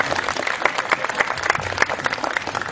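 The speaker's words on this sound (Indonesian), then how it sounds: "Tepuk tangan Pak Busro" An audience at a talk applauds Pak Busro, a dense, steady burst of hand clapping heard close and continuous for a few seconds, with no voices over it.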